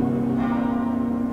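A deep church bell tone hangs and resonates steadily within orchestral music from Honegger's Jeanne d'Arc, loud and sustained with no fresh strike.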